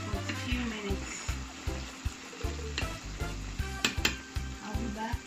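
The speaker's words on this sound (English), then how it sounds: "Just leave it to fry for a few minutes" Suya meat fries in hot oil, a soft steady sizzle broken by regular low thumps and a few sharp clicks and metallic clinks, fairly faint and close with no clear talk.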